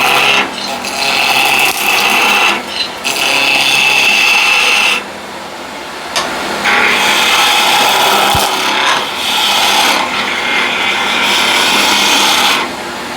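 A 3/4 inch skew chisel cuts a block of sapele spinning on a woodturning lathe. It makes a loud, continuous rasping hiss that swells and eases in long passes, with no talking.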